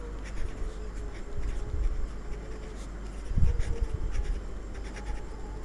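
A pen scratches across paper while algebra is written out by hand, with a series of short, close strokes and taps in an uneven rhythm over faint background noise.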